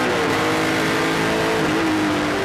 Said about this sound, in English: On board with Andrew Ranger in the Walmart-tied Ford Fusion